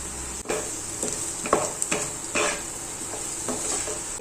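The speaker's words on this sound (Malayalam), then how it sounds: "എല്ലാം കൂടി ഒന്ന് മിക്സ് ചെയ്തെടുക്കാം." A spoon stirs a sizzling chicken masala mixture in a pan, giving a few distinct scraping strokes against the metal over a soft, steady frying hiss, close up and with no talking.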